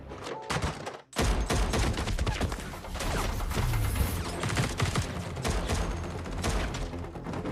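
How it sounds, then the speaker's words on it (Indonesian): Gunfire from a shootout scene in the 2022 film Blacklight: loud, dense bursts of rapid shots and heavy thuds pour out almost nonstop, broken by a brief pause near the start. "Di tengah baku tembak, Travis mencoba memperingati para agen itu"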